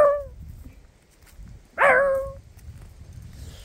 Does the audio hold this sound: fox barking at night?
yes